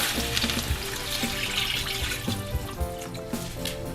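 Broth and water pour into a pot of potato lentil stew in a home kitchen, a steady liquid splashing and gurgling that runs for several seconds, close and moderately loud with no talking.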